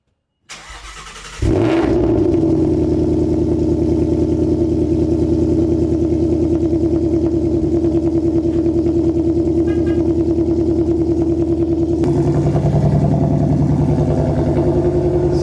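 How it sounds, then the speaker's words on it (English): A Mustang engine with Magnaflow exhaust and deleted catalytic converters cranks over and settles into a steady, deep, rumbling idle that holds loud and close for the rest of the clip. "she definitely has like a very deep growl, rumble to her with the Magnaflow exhaust and the cat delete"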